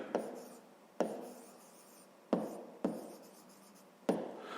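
Pen or pencil writing by hand during a fifth-grade maths lesson, with five distinct scratchy strokes spaced about a second apart, close and fairly quiet, with no talking.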